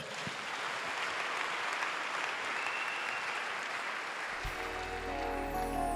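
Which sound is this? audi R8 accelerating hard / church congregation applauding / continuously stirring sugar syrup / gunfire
church congregation applauding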